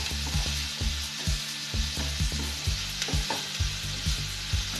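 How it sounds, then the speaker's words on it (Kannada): Onions frying in a pan for potato bonda, a steady sizzle broken by regular scraping strokes of a stirring spoon about twice a second, close and clear with no speech. "ಈರುಳ್ಳಿನ ಚೆನ್ನಾಗಿ ಮಿಕ್ಸ್ ಮಾಡಿಕೊಂಡು ಒಂದು 2 ನಿಮಿಷ ಹುರ್ಕೊಳ್ಳಿ ಈ ಥರ"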